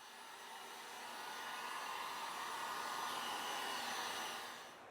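A heating tool blows hot air to warm butyl sealant on a car's front bumper lower grille, making a steady, fairly quiet whooshing hiss that swells slightly and fades at the end.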